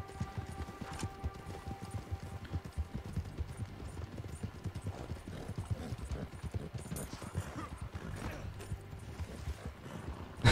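Horse hooves clip-clop steadily and busily through a Red Dead Online game scene, a dense continuous trotting rhythm with a brief whinny-like sound mixed in, close and fairly loud, with no talking over it.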